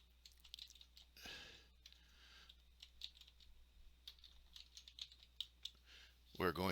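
Fingers typing on a computer keyboard, quiet irregular key clicks in quick bursts close by, with a brief rustle early on and a louder sound at the very end.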